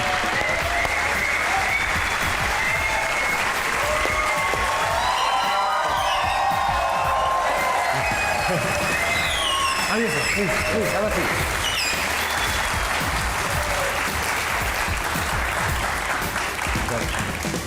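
Studio audience at a Pakistani comedy talk show applauding the arrival of actors Behroze Sabzwari and Javed Sheikh, dense sustained clapping with some cheering throughout, a host's voice talking over it.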